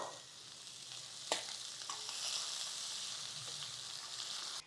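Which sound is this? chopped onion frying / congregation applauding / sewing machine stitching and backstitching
chopped onion frying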